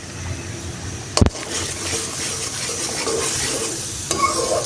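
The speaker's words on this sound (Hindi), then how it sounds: "ले नाजरीन, हमने ग्राइंडर का जो मिक्सचर है वो डाल दिया है कढ़ाई के अंदर।" A ground onion and green chili paste from the grinder sizzles in a kadhai for chicken kofta, with a steady broad frying hiss, a sharp clack of a spoon or pan near the start, and light stirring scrapes throughout.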